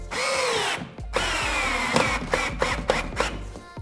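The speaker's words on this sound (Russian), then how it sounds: "Устанавливаем и просто притягиваем на те же желтые саморезы." A power screwdriver drives yellow self-tapping screws through gypsum board into a wall frame, its loud whining motor running in long bursts with short pauses and clicks, then a few quick stop-start pulses as each screw is pulled tight.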